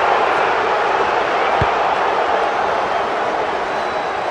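Steady broadband roar of a large stadium crowd at a rugby match between Lightning and Crushers, a continuous loud wash of massed voices with one brief low thud partway through.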